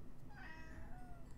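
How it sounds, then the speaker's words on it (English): A cat gives a thin, drawn-out, pitiful meow that rises and falls, heard on its own over a steady low background hum. "have you ever heard a meow more pathetic than that?"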